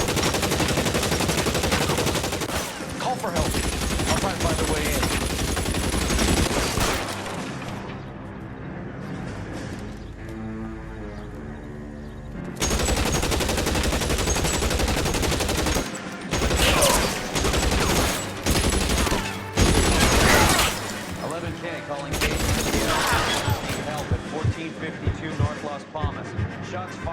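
Gunfire from the video game L.A. Noire during a police shootout: loud, dense bursts of shots and rapid volleys fill most of the stretch, with a brief lull midway and voices talking over the action.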